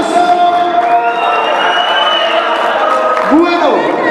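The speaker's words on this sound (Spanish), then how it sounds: "¡Aplauso!" A crowd at a mariachi birthday serenade applauds and cheers, with voices and clapping blended over the fading ring of a band's instruments. One sharp sliding note near the end rises above the steady crowd noise.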